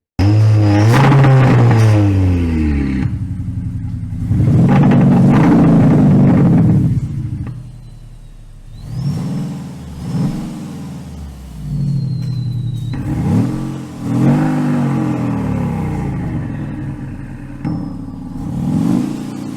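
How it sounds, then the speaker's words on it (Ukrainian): A 2019 Audi Q5 engine with an electronic exhaust system revs hard in repeated bursts, loud and close, with crackling exhaust pops between throttle blips. "якісний звук вихлопної системи"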